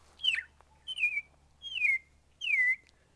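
A person whistles an imitation of a bird: four separate high, sliding chirps with short pauses between them, close and clear against a quiet background.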